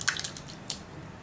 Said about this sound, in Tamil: இப்போ நம்ம பருப்பு ஊற்றிக்கலாம்.